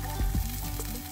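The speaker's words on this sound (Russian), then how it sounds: "Закрываем крышкой и жарим в течение 5 минут." Lavash frying in a covered pan, a steady, continuous close sizzle with a couple of brief low thumps near the start.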